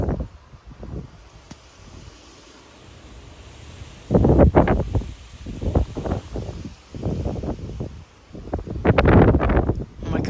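Strong 40 mph wind gusts during a severe weather outbreak in Frisco, Texas, blowing through neighborhood trees, heard as a low rumbling roar with several loud surging bursts of buffeting and rustling close to the microphone.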